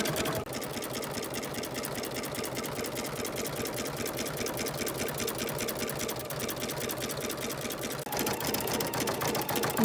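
An embroidery machine stitches satin stitches around a fabric applique on a seashell in-the-hoop design, a steady fast mechanical whirr that runs loud and continuous throughout with a brief dip near the end.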